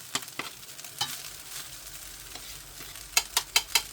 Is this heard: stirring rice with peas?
yes